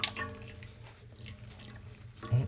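Tall goldenrod dye drains and drips out of a container, a close, soft trickle with a few louder splashes at the start and end.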